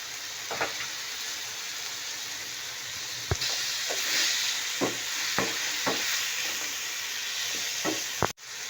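Onion sizzles with spices in a pan for bread rolls, a steady hissing fry punctuated by several sharp spatula taps and scrapes, close up, ending with one loud clunk.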